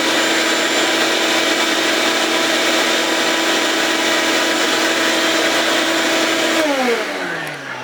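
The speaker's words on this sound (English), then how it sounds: "We're going to go ahead and hook our vacuum hose up to the outlet and blow through that exhaust." A vacuum hose blows through a clogged residential dryer vent exhaust, giving a loud, steady roaring whoosh that holds for several seconds before the motor winds down and the pitch falls.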